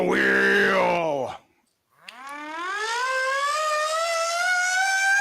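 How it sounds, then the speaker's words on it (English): A siren sound effect plays on a live poker tournament stream, a loud wailing tone that falls away into near silence, then rises again in a long, steady upward sweep. "The siren's back."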